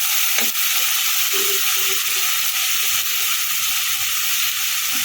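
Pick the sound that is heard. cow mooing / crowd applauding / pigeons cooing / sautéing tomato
sautéing tomato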